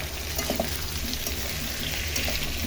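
Papaya and onion frying in oil for a Bangladeshi shing fish curry, stirred in the pan; a steady close sizzle with soft scraping strokes running throughout, no voices.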